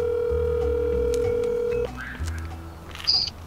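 Telephone dialing for a restricted call: a steady dial tone that stops abruptly, followed by a few faint beeps and a short higher tone, close and fairly quiet.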